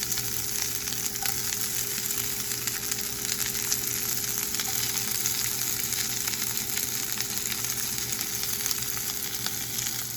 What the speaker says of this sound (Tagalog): So, ito na yung igisa. Alahin natin yung sibuyas.